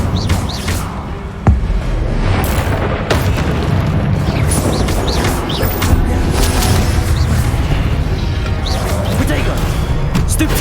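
Fiery spell bursts in Hogwarts Legacy, a sharp boom near the start followed by repeated whooshing blasts and crackling effects over steady game noise and music.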